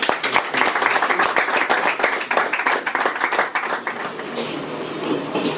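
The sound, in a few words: audience applause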